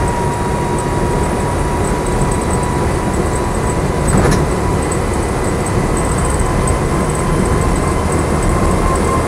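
A Land Rover Lightweight drives along, its engine and road noise forming a steady, loud rumble throughout, with one brief louder knock midway and no voices.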